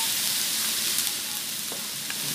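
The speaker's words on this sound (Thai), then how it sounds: "ใส่ตรงขอบๆกระทะนะคะเพื่อนๆเราจะได้กลิ่นน้ำปลาหอมมาก" Fish sauce and soy sauce sizzle against the edge of a hot wok while rice is stir-fried with Chinese sausage, a steady bright crackling hiss with a few scraping stirs, close and alone.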